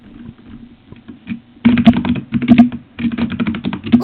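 Keyboard typing in the BBC Dance Mat Typing game: quiet scattered taps, then dense bursts of rapid key clicks close to the microphone with short pauses between runs, no one speaking.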